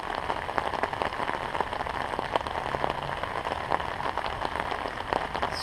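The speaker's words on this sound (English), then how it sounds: "And the rain has just been relentless." Heavy, steady rain pours down outdoors beside beehives after weeks of constant downpour, a dense hiss of drops with scattered close patters and no voices.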